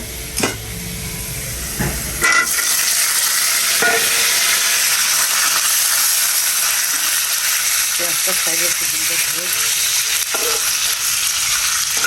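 An egg with salt sizzles loudly in a pan with onions, a continuous dense frying hiss broken by a few scraping and tapping knocks of a spatula against the pan.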